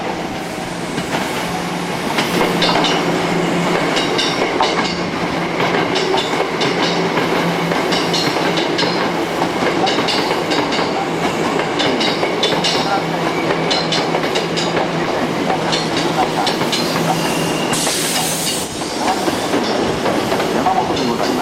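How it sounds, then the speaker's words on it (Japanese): A Hankyu train bound for Takarazuka rolls into a station platform, steady wheel clatter and rumbling carriages running loud and close throughout, with a faint platform announcement voice in the background. "まもなく3号線に宝塚方面行きの電車が到着いたします。"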